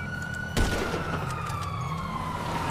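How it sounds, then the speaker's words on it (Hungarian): A police car siren in a zombie roleplay video game gives a continuous wailing tone that slowly falls in pitch across nearly three seconds, broken near the start by one sharp bang. "másik oldalt jön egy rendőrautó."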